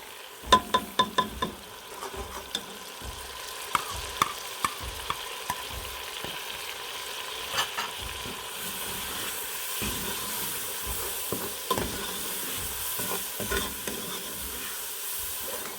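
Lahori chickpea curry is stirred and sautéed over a high flame, with steady sizzling and frying hiss. A spoon scrapes and clatters against the pot, sharper near the start.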